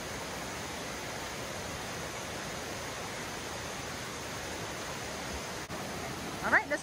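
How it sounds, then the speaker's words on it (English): A double waterfall at Anna Ruby Falls gives a steady, broad rushing roar, constant and moderately distant throughout, with a brief faint sound near the end. "It's a double waterfall."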